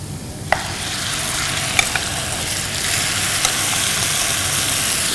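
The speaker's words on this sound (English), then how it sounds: "And now while you add the mutton," Mutton pieces hit hot ghee among browning potatoes, a loud, close, continuous sizzle with a few sharp clinks of a utensil as the meat is stirred.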